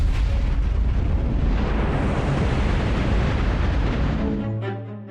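A Saturn V rocket with five F-1 engines lifting off: a massive, continuous wall of roaring, crackling rumble that holds steady and full for several seconds before easing slightly, with a low tone emerging at the end.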